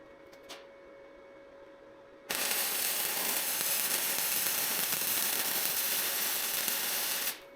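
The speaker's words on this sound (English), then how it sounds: "weld the bottom side up, tack it on a little better just to make sure." Loud continuous crackle and hiss of welding on the bottom side of a portable game hoist, starting abruptly after a quiet stretch with a faint tap and running steadily for about five seconds before stopping.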